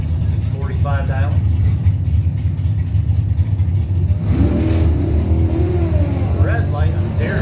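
A drag racing motorcycle engine idles and revs at the start line of a drag strip points event, a loud, steady low drone that runs the whole time while an announcer talks over it.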